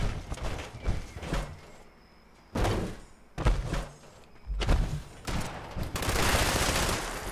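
Explosive light machine gun in Fallout 76 firing in several loud bursts separated by short pauses, each burst a dense crackle of shots with heavy low-end impacts, the last burst long and sustained.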